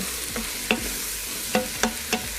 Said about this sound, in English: we're just gonna add the mushrooms and onions just right back in. And then just mix together for a little bit